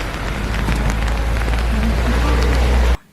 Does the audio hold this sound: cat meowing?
no